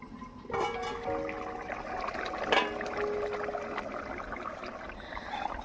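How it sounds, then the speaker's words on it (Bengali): Water poured into a pan of sautéed potatoes, a steady close trickling splash running through the whole stretch with a brief louder gush midway. "এবারে পরিমাণ মতো জল দিয়ে ঢাকা দিয়ে সেদ্ধ করতে হবে"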